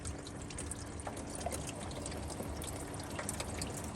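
Water running and trickling down inside car doors over the power windows, a steady faint wash of flowing and dripping liquid with small irregular splashes throughout.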